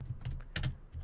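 Computer keyboard typing with a few distinct key presses at a steady rhythm, including an Enter keystroke, close and clear with no talk.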